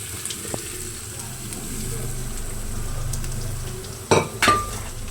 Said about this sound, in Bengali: এটা আমি নেড়ে নিচ্ছি, কারণ মশলাটা কষাতে হবে।